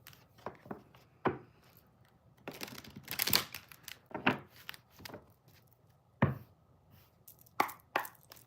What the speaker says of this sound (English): me shuffle one more time.